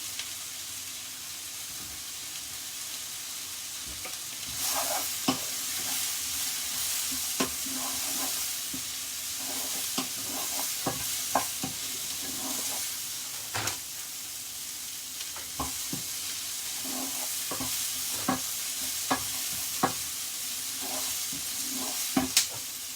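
Red and white cabbage stir-frying in a pan, a continuous sizzle and hiss broken by frequent sharp scraping clicks of stirring, close and clear with no talking.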